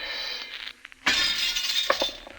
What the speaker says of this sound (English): You make a habit of smashing people's windows